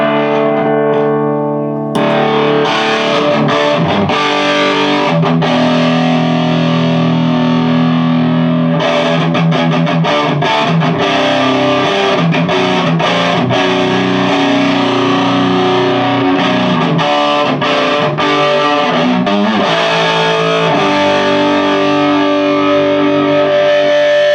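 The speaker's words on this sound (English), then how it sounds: "HIWATT DR103 test with an OCD at all mid-level." Electric guitar through a HIWATT DR103 clone amp with an OCD overdrive set at mid levels, loud sustained distorted chords and riffs played continuously, no voices.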